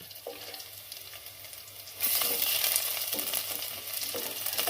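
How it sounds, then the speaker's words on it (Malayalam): Chopped shallots and dried red chillies fry in hot oil, with mustard seeds, for a Kerala green taro stem dish. A soft, quiet sizzle jumps into a loud, crackling hiss partway through, then holds steady with faint stirring. "ഉള്ളി മുളകും എല്ലാം നല്ലതുപോലെ മൂത്ത് വന്നിട്ടുണ്ട്."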